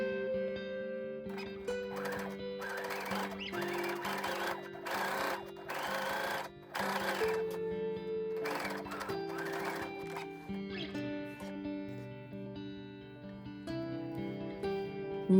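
A sewing machine stitches a lace neckline seam from the lace side, running in short rapid bursts of clattering stitches separated by brief pauses, close and clear.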